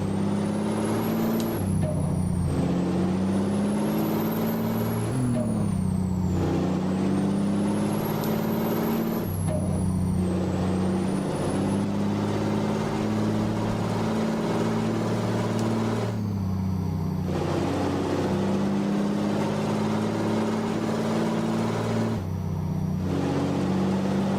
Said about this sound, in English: Man, the sound of that engine, dude.